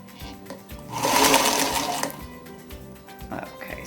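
A sewing machine stitches elastic onto a homemade fabric face mask in a single close, steady run of about a second, followed by quieter handling noises.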